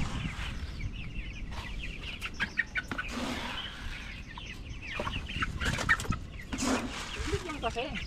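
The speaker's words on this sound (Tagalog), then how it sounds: "hindi din natin pwedeng kalimutan ang mga manok natin dito sa labas" Hens clucking and a rooster-like call in an outdoor yard, with scattered chirps and faint voices in the background.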